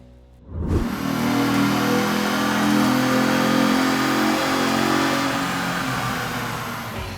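A Ford Mustang V6 3.8 from 2000 revs hard on a dyno, its engine note jumping from quiet to a loud, sustained roar held steadily for several seconds before easing slightly.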